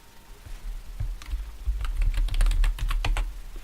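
Keys clatter on a computer keyboard as a PowerShell command is typed on a server, a close burst of quick taps that speeds up and grows denser toward the end, with no talk.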